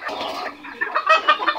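Cochin and mottled frizzle bantam chickens cluck close by, a short run of soft, rapid clucks and chatter with no talking.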